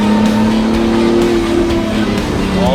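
A race car accelerating through a corner on a racing line, its engine a loud, steady high-pitched drone with rising harmonics toward the end, with faint talk underneath.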